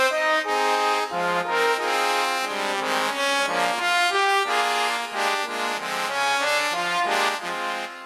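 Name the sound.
notation software playback of a big band arrangement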